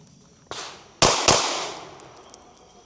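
Tisas PX-9 Duty Comp 9mm pistol fired outdoors from the holster, a faint first crack followed by a loud, close double tap of two shots with ringing decay.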